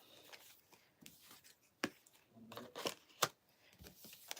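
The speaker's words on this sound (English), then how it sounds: "I'm going to put the last of my cards in the other deck so I can give that a good shuffle real quick." A deck of tarot cards is shuffled by hand up close, giving soft riffling and flicking with a few sharper snaps, quiet and irregular.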